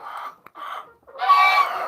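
Backyard chickens cluck and call while being fed, a couple of short warbling clucks followed by a louder, longer squawking call, fairly close with little else around.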